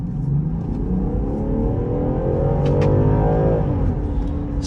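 A Land Rover Defender engine revs up and accelerates, its pitch climbing steadily, loud and close, with no talking.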